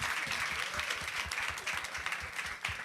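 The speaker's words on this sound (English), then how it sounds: "can we get one round of applause for my panelists today?" An audience at a creativity summit panel applauds, producing a steady dense wash of clapping throughout, with faint murmurs underneath.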